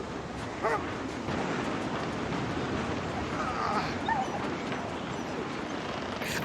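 A dog whimpers and yips in a tense scene from a zombie drama TV show, its small cries rising briefly over a constant broadband wash like surf or wind that fills the whole stretch.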